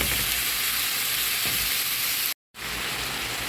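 Yardlong beans and pointed gourd fry with spices in a pan, giving a loud, continuous close sizzle with light stirring that drops out briefly before resuming.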